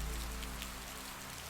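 Rain patters on a cabin roof in a soft, even wash of drops, faint and continuous with no voices.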